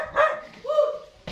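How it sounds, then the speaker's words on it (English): A dog barks at another dog outdoors near a balcony, giving two loud, close yelping barks with a short pause between them and no talk. "The dog is making noise."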